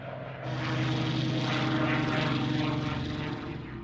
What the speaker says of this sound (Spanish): su impresionante avión, el Spitfire, con motor Rolls-Royce, uno de los mejores aviones de combate del mundo